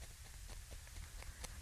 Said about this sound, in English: This is the sound of my needle going into the wool and into the